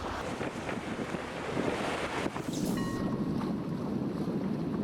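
Heavy wind buffets a racing sailboat out on open water as a storm front arrives, a steady loud roar of gusts and rushing water with microphone buffeting throughout.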